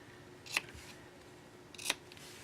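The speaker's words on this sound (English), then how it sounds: "So I'm just going to trim the tails here real quick." Two quick, crisp snips of scissors trimming the tails of a ribbon bow, close and isolated in a quiet room.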